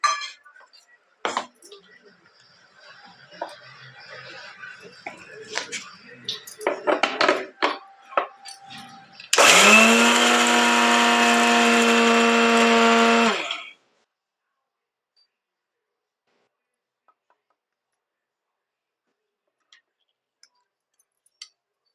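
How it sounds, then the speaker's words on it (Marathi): A mixer grinder coarsely grinds spice masala for mixed vegetable pickle, one loud steady whirring burst of about four seconds, preceded by clinks and taps of utensils and followed by near silence. "आता आपल्याला बारीक करून घ्यायचं आहे मिक्सरला थोडं जाडसरच"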